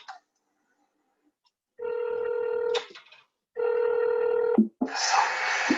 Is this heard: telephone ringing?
yes